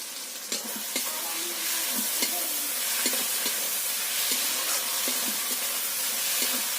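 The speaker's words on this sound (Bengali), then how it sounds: "আদা দিয়ে ভালো করে কষিয়ে নিতে হবে" Ginger paste and tomato sizzling in a pan for mutton dak bungalow curry, with a steady soft hiss broken by regular scraping strokes of a spatula stirring the masala, no voices.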